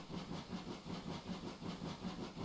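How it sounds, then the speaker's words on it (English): GWR 6960 Raveningham Hall, a steam locomotive on the West Somerset Railway, chuffs past in a steady, even rhythm of soft puffs, faint and distant, with no voices. "Oh, just listen to that, and the steam effects from it."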